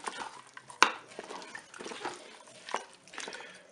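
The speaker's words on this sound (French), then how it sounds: "Je vais ajouter les lentilles." Lentils poured into the pot of a Cookeo multicooker, a quiet rattling patter with a sharp knock near the start and scattered clinks of utensil and pot.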